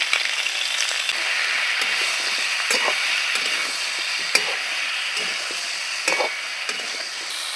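Drumstick vegetables sizzle loudly in a pan with ground ginger spice paste, turmeric, salt and cumin powder for a vegetarian curry, under steady frying hiss with occasional stirring scrapes throughout, no voices.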